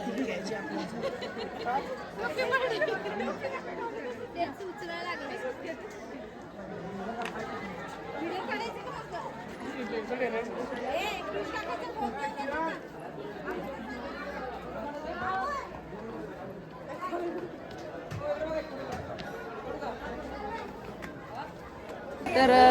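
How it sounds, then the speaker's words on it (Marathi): A busy Sunday crowd at a hill fort fills the air with steady overlapping chatter and babble, many voices near and far blending into a continuous hubbub for the whole stretch. "आज रविवार असल्यामुळे खूप सारी गर्दी सुद्धा आहे इथं"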